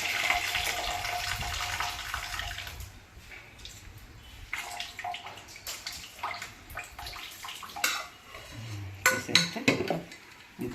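Water is poured off a pot of raw chicken in a home kitchen, splashing and trickling in uneven bursts against clinking metal cookware and the occasional knock of a utensil.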